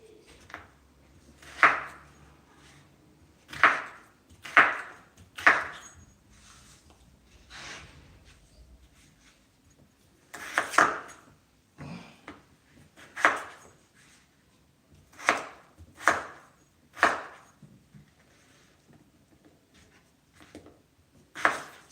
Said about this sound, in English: when you are slicing like a potato with a knife